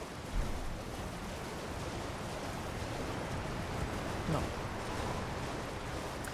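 Waterfall in the fantasy action game Elden Ring, a steady broad rushing roar of falling water, constant and enveloping with no pauses.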